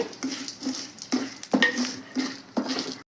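A spoon scrapes and stirs fenugreek seeds, with coriander seeds to follow, as they dry-roast in a pan. The roughly rhythmic scraping strokes come up close with light rattling and no speech.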